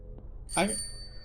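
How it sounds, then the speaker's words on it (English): A single bell chimes in a video game, a bright ringing strike that rings on with sustained high tones and slowly fades, heard alone after a faint click. "Oh, the bell."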